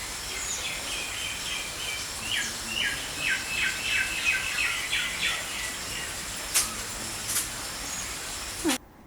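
A parrot gives a rapid series of chirpy, repeated calls over steady background noise, followed by a couple of sharp clicks near the end.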